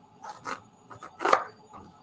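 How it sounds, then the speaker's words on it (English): A knife cutting a raw spaghetti squash in half on a board in a kitchen cooking demo, giving a few scraping, crunching strokes at close range, moderately quiet. "And then we're going to cut this in half."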